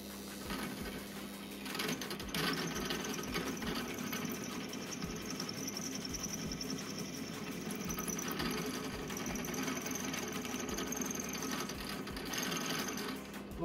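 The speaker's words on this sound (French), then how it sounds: "j'ai réalisé le perçage de la poulie" Drilling a pulley for a homemade knife sharpener: a steady, close mechanical whirring with a thin high whine runs through the whole stretch, with no talking.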